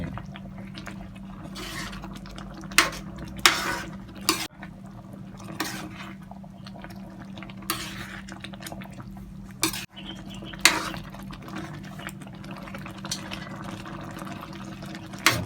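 Bamboo shoot curry cooks in a pan while a utensil scrapes and clinks against the metal in scattered knocks over a steady simmering bubble, close and moderately loud.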